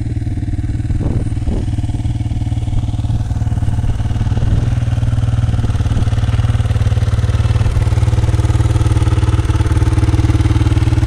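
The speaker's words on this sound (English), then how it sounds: "Nothing like the sound of an XR250R in the forest." A Honda XR250R dirt bike rides on forest gravel, its engine a loud, close, continuous drone with faint clattering over the whole stretch and no speech.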